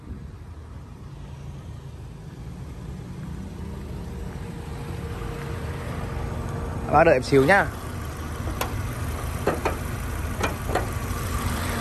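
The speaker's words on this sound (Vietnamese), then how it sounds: "Đây máy đang nổ luôn mọi người nhá." A 2011 Kia Morning with a manual gearbox idles steadily in a low, even hum. Someone speaks over it and a few short clicks and a brief tonal chirp come through midway.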